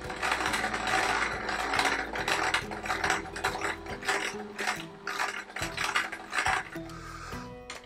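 Domestic sewing machine stitching a fabric scrap at a larger stitch length for a Cecily Parsley appliqué on a Peter Rabbit patchwork quilt, a rapid mechanical clatter running in close, loud bursts with brief pauses between runs.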